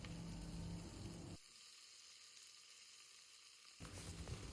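Tomato goes into a sizzling pan for Mangalore-style naati chicken sukka, with loud frying that drops to a quiet hiss in the middle before the sizzle surges back. No voices are heard.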